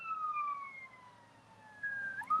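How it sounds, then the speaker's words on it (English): An ambulance siren wails in the distance as it heads toward Newcastle, its two tones sweeping slowly downward and swelling again near the end, faint against quiet outdoor surroundings. "Ambulance is going towards Newcastle."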